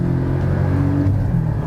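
A Porsche flat-four turbo engine pulls under load while driving, a steady, loud low rumble with a slight rise in pitch, heard from inside the car with no talking.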